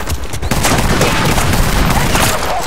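Gunfire rattles through a Battlefield: Bad Company 2 match, with dense, continuous automatic fusillades and booming shots that stay loud and close for the whole moment, under a player's excited talk.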